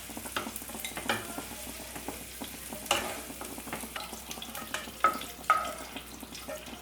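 Mixed vegetables sauté in oil in a kadai for veg kolhapuri, a quiet sizzle broken by repeated clattering stirs and scrapes of the spoon against the pan.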